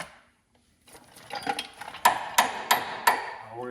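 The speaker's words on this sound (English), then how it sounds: "we're gonna need a bigger hammer" Hammer striking metal during overdue home maintenance, four sharp ringing blows in a steady rhythm after a few lighter taps, close and clear with no talking.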